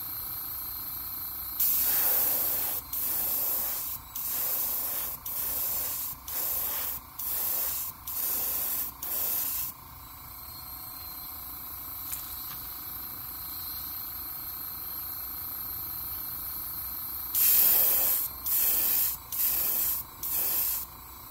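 Airbrush laying another coat of paint on an MB S Crank in a craw pattern: a run of short spray bursts, then a quieter gap, then a second cluster of bursts, close and steady hissing.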